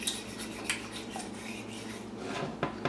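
A whisk scrapes and rubs around a pot of thick canned-food soup mix, rasping metal strokes with a few sharper taps, close and fairly quiet.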